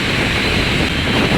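Steady, loud wind roar buffeting the microphone while riding a Bajaj Pulsar NS200 motorcycle on the road from Theni to Trichy, continuous broadband rush with no talk, cutting off abruptly at the end.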